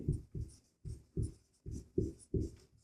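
Chalk or marker strokes on a board during a Class 10 maths lesson, seven quick scratchy bursts in a steady rhythm, close and fairly quiet with no talking.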